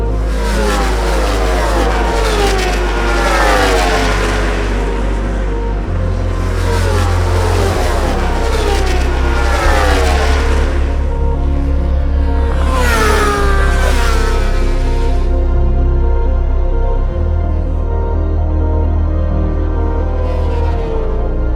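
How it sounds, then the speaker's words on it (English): Club-level racing motorcycles roar past on a track during a night race, engines revving high and shifting through gears in loud, overlapping waves with no talk. "As we enter the closing stages, Hayes is getting closer to our race leader, Derek Murphy"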